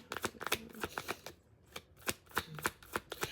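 Tarot cards being shuffled by hand in a close, crisp series of riffling bursts with brief pauses between them, no talking.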